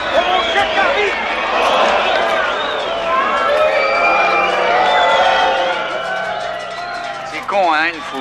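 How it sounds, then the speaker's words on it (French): A crowd of people outside a door gives a loud, busy din of many overlapping voices and shouts, steady throughout, with a high yelping sound near the end. "Hein, une foule."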